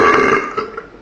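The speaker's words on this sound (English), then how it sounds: "Belch." One loud, close burp rolls out with a raspy, throaty tone and trails off in a couple of small gurgling pulses.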